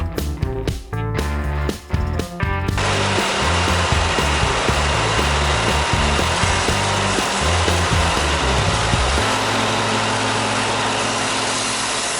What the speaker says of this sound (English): I knocked off most of the material on the belt sander